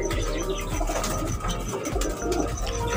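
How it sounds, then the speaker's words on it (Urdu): Pigeons on a Sialkot rooftop loft, Ali-type fancy breeds, cooing softly amid steady background noise and scattered rustling, with no talk. "پہلے کبوتروں کو چیک کریں جی کیا کتنے پیارے ہیں"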